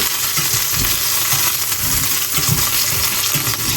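A metal spatula scrapes food debris across a hot griddle while burgers cook, giving a run of rough rhythmic scrapes and knocks over a steady loud sizzle.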